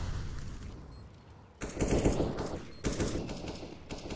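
AK rifle fire in the video game Counter-Strike, heard in two bursts of rapid automatic shots over a busy game mix, loud and close, with a brief lull between them.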